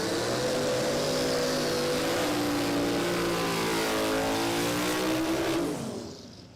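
Turbocharged Holden VH Commodore drag car at a drag strip, its engine roaring loud and steady at high revs with a rising, wavering pitch before cutting off sharply near the end.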